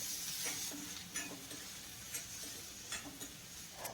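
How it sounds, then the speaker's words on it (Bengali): Potato pieces fry gently in a pan, a soft low sizzle with scattered scraping stirs at close range, no voices, during cooking of a vegetarian beans and potato curry. "এইভাবে আলুটাকে ভেজে নিতে হবে।"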